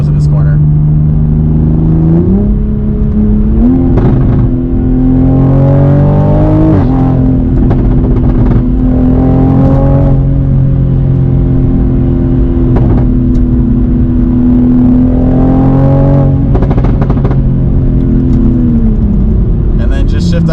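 A 500HP Toyota Supra pulls through a corner, its engine drone holding a steady note that steps up and down with throttle and gear changes over twenty seconds, while someone talks throughout.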